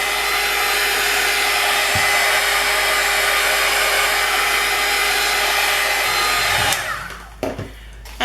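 A hair dryer blows steadily on a damp painted art journal page in an altered book, a loud, constant close-up whoosh that cuts off near the end, followed by a few faint handling knocks.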